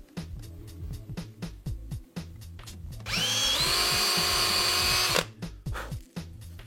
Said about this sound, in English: Taking my drill, I put 2 pilot holes in